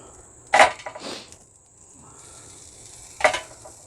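Pork chops searing on a hot Big Green Egg ceramic grill: two short, loud hissing sizzles a few seconds apart, each flaring up and fading, with a faint steady crackle between them.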